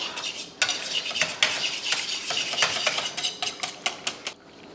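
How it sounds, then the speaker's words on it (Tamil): A strained homemade drink being stirred briskly with a spoon in a container, producing a steady run of clinking, scraping strokes that sharpen into several distinct taps near the end, close and fairly loud with no talking. "வடிகட்டினதுக்கப்புறம் நல்லா அப்படியே கலந்து விடணும்"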